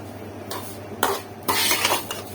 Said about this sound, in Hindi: तो इसको मैं भून रही हूँ। यहाँ पे जी मैंने डाली है इसमें मेवा।